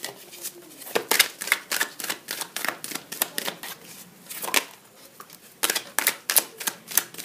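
Tarot cards being shuffled and drawn, making rapid crisp riffling and flicking sounds in close, quick bursts with brief pauses between them.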